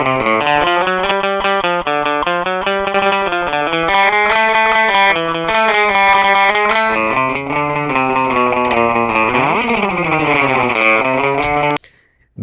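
Rockabilly electric guitar run through a slapback delay, playing a loud, continuous twangy lick with doubled echoing notes and a bending phrase near the end before cutting off, with no talk.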